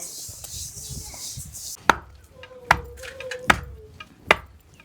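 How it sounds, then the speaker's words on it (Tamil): Roasted sesame seeds being pounded with jaggery, four sharp heavy thuds spaced about a second apart, loud and close against a quiet background with some brief scraping before. "வாங்க அப்படியே போய் நம்மளும் இடிக்க ஆரம்பிச்சிடலாம்"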